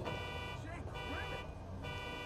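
A steady electronic car alarm in the video game GTA V blares continuously, its tones pulsing and warbling, loud and close throughout, set off by punching a car.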